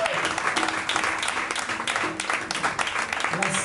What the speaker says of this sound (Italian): Ma ancora un applauso, Miranda Martino.